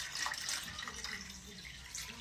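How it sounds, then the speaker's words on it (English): Water pours into a cup in a steady splashing stream, close by and fairly soft, with a bubbling trickle running throughout and no talking. "I'm gonna be adding water now."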